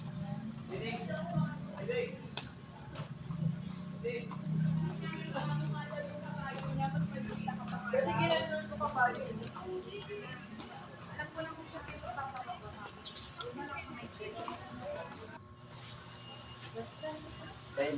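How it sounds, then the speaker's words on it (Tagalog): Horse hooves clip-clop along a street in Vigan, in a steady rhythm under a busy outdoor scene with people talking throughout. "May kabayo."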